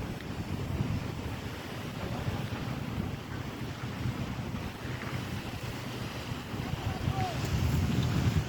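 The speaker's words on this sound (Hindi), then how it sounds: "इसमें मनचले लोग ये जो वाटर बोट कर रहे हैं" Sea waves wash in steadily at Ajman beach, with a low wind-blown rumble and motorized water boats running in the background, a continuous broad wash of surf without any clear talk.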